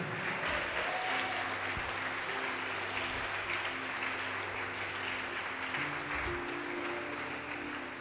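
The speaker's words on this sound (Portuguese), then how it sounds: "Pode aplaudir" A church congregation applauds during a sermon, sustained dense clapping from a large crowd holding steady for the whole stretch, with faint music or voices underneath.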